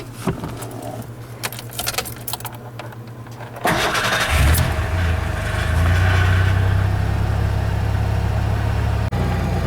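Keys jingle, then a Ford Bronco II engine cranks and starts, settling into a steady, close idle that keeps running.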